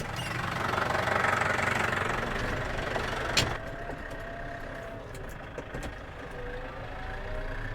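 A tractor engine drones steadily as heard from inside the air-conditioned cab during hay work, a loud low rumble with a brief clunk partway through and a faint whine afterward.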